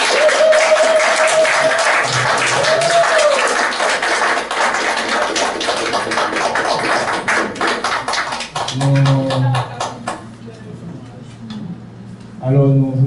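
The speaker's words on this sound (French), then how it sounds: "chaud applaudissement." Warm applause from a church congregation at a Sunday service fills the space for about eight seconds, with a tonal musical note near the start, then gives way to a voice speaking over fading claps.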